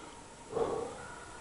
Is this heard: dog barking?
yes